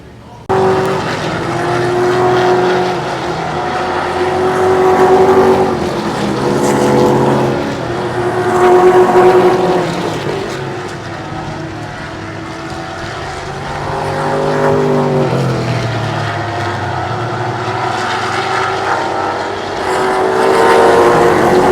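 Vintage race cars in a paddock garage at Mid-Ohio during vintage and Trans-Am race weekend, engines droning and swelling in waves nearby, with a voice talking over them.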